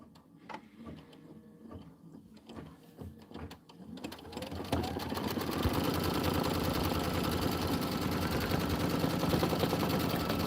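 An embroidery machine sews a white placement stitch, starting after a few seconds of quiet handling clicks and then running as a steady, fast mechanical rattle that stays loud and even until the end.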